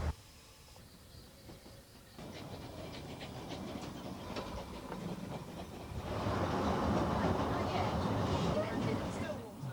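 A Ffestiniog Railway steam train runs along the line, a rhythmic clatter of wheels on rails that grows louder and busier partway through, with a narrator speaking over it.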